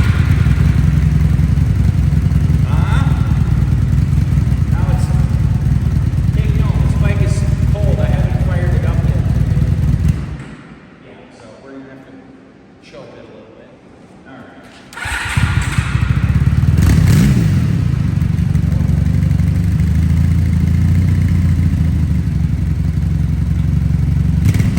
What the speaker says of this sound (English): I love the quad exhaust on it, and even with these stock mufflers, they're pretty quiet, but man,